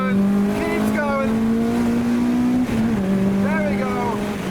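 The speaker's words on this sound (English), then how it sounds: "It's very shouty though. The VTEC especially barks" A K24-swapped Honda Civic Type-R revs hard, its engine note climbing steadily and then barking as VTEC engages, loud and close, with voices talking over it inside the cabin.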